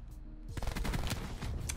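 Rapid bursts of video-game gunfire crack out close and loud, a dense cluster of shots in quick succession with no talk over them, in a first-person multiplayer shooter match.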